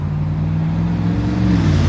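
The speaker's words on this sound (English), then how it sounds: "Oh my god, holy loud cars." Loud cars pass along a road close by, a steady, heavy engine rumble that swells slightly toward the end with no break.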